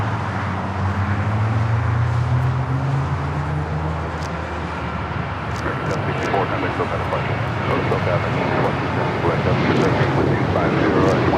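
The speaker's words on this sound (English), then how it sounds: "American Airlines 764 taking off to Puerto Vallarta" An American Airlines Boeing 737-800 in TWA retro livery takes off from LAX bound for Puerto Vallarta, a steady loud jet roar with rumbling low end and wind buffeting, while a voice talks over it throughout.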